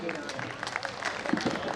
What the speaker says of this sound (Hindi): एक बार तालियां बजा करके मुझे